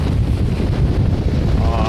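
Steady wind roars across a sailboat on a beam reach at sea, blowing around 14 to 18 knots with water rushing underneath; a loud, constant broadband buffet fills the whole clip without a break.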